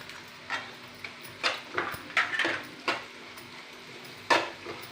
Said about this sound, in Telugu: క్యాప్సికమ్ వేస్తున్నాను